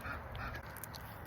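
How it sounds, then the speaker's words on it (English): Ducks quack faintly outdoors on a nice day, small scattered calls sitting low under a steady wash of open-air background noise. "if you happen to hear any ducks, just excuse the background noise"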